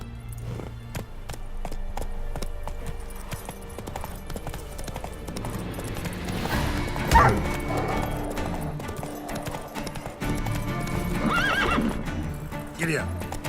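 Horse hooves clip-clopping at a gallop with loud neighs and whinnies in The Witcher 3, layered over game music and ambience, with a rider's voice calling out.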